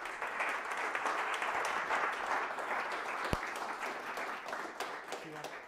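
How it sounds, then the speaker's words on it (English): An audience applauds a speaker named Jason at a Vue.js developer event, with steady, dense clapping filling the room from start to finish at a moderate, even level. "give him a round of applause"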